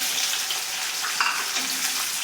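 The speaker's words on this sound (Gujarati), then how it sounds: "આ ડુંગળીને આપણે અહીંયા 2 મિનિટ સુધી સ્લો ગેસે સતડાવા દેવાની છે." Chopped onion, added to a pan with garlic, sautés over a low gas flame, giving a steady, even sizzle and crackle throughout with no voices.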